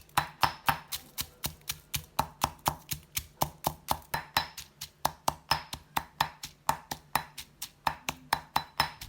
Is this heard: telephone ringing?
no